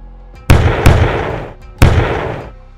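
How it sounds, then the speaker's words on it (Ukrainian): Three heavy, booming blasts from a PzH 2000 self-propelled howitzer ring out, two close together and one after a pause, each rumbling away as it fades. "Гармата генерує енергію і виштовхує боєприпас"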